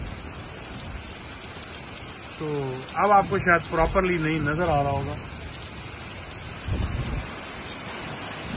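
Hurricane rain and wind lash Florida as a steady, hissing downpour. It holds constant and loud throughout while someone speaks over it in the middle.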